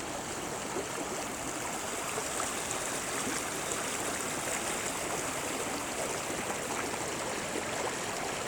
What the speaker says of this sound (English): Indiana's got some pretty creeks